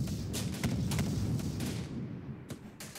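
A sniper team fires on mortar crews in the Syrian Warfare game: a series of sharp gunshot cracks over a steady low battle rumble, roughly one every half second, with distant thumps.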